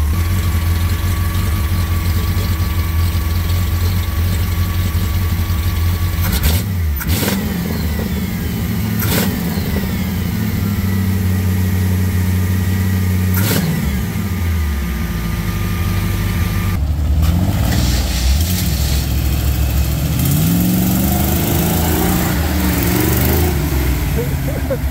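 A long-neglected off-road truck engine, its starter sounding rough, runs loudly and steadily near the listener, with a few sharp clunks and a brief cut and restart partway through before it settles back into a rumbling idle with revving.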